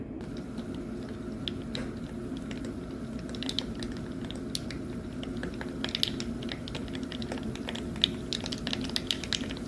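Mustard seeds pop in hot oil for tempering a green apple pickle, making dense, irregular small crackles and snaps over a low steady sizzle, close and moderately quiet throughout.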